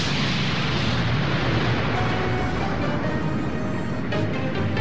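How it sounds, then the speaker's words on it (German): A temple blowing up in the animated series Power Stone, a dense, loud roaring blast that rumbles on continuously without letting up. "Der Tempel explodiert!"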